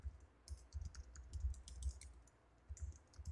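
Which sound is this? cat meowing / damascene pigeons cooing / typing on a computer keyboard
typing on a computer keyboard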